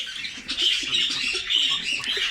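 Pigeons in a warm loft, soft repeated throaty coos layered over a busier bed of rustling and light chirps, close by and continuous.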